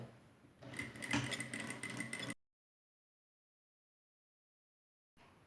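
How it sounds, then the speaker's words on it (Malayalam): A sewing machine stitches across the yoke of a kids' summer frock in one short, close run of under two seconds, then cuts to silence before faint sound returns at the end. "ഇതിൻ്റെ മുകളിൽ കൂടെ നമ്മൾ സ്റ്റിച്ച് ചെയ്ത് കൊടുക്കുകയാണ്"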